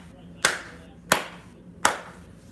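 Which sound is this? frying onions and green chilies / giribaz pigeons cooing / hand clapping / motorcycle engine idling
hand clapping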